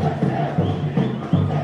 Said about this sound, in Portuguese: Comemorando aqui com sua torcida do Unidos, do Vila Picerno, que empata o jogo aqui no Centro Esportivo